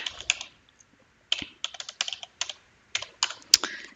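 A password is typed on a computer keyboard: a quick series of close, crisp keystroke clicks in short irregular bursts with brief pauses between them.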